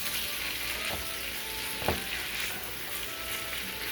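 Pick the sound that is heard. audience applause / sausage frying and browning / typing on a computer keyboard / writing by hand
sausage frying and browning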